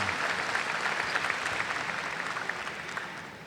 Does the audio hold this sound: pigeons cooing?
no